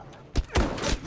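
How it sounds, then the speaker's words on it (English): Sniper rifle fire in the first-person shooter Battlefield V, a few sharp, loud shots and heavy thuds close together over roughly one second, with a busy battlefield din behind them. "Oh, I'm being sniped."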